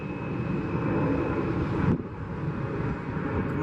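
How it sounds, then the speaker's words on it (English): Airbus airliners run their engines at Atlanta airport, a loud, steady roar and whine that dips slightly halfway through and then carries on, with no talking. "They're just running the engines now, and there's a 737 about to take off."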